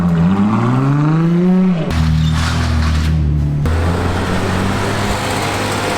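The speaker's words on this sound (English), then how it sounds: "And there's the Elva driving past." McLaren Elva hypercar passing close by on a London street, a loud engine drone whose pitch rises then drops as it goes past, followed by steady traffic rumble.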